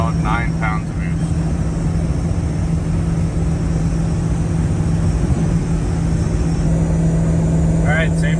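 A 2000 Ford F350 pickup fitted with a new KC turbo cruises at about 90 mph, 2,500 RPM. A steady, loud in-cab engine and road drone runs throughout, with people talking over it.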